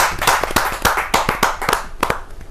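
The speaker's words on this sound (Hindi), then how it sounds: "जोरदार तालियों के साथ हम" Audience applause greets a poet at a Hindi kavi sammelan, a loud burst of dense, continuous clapping with sharp individual claps standing out throughout.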